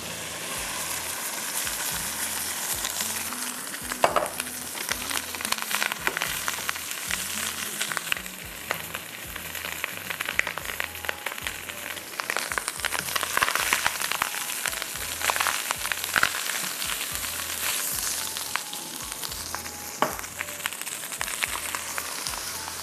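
Rice hits a hot pan and is stir-fried, a steady crackling sizzle running throughout with repeated scraping strokes of a spatula, close and continuous, with no talking.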